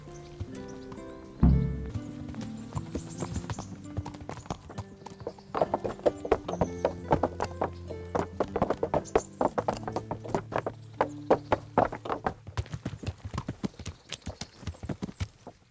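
Horse hooves clip-clop at a steady trot in the medieval game Kingdom Come: Deliverance, starting after a sharp thump and running close and rhythmic over music, with a brief whinny.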